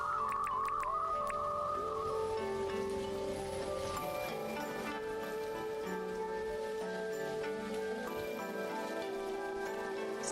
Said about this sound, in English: Gentle rain comes in.